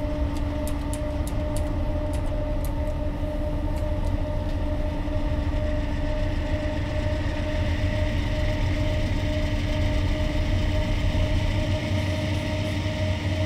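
A GE AC4400 diesel locomotive in Train Simulator 2018 throttles up, giving a loud, steady engine drone with a heavy low rumble and sustained tonal hum. A few faint clicks sound near the start.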